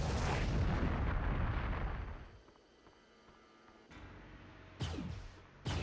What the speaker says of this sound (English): And like grenades don't have a delay.